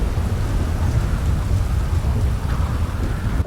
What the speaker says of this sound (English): Ah, this freaking rain.